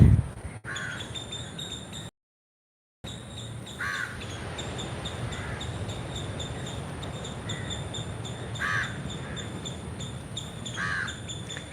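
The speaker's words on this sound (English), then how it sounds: "Lots of crows, but also incredible birds unique to Kerala." Crows cawing outdoors in Kerala in the morning, a few distinct caws at a moderate distance, spaced several seconds apart over a faint steady background of insects and ambient hum.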